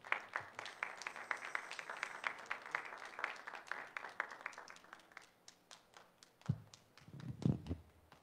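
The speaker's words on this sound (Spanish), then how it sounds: "démosle un fuerte aplauso" A church congregation claps for their pastor, with a dense round of applause that thins into scattered claps and a couple of heavier thumps.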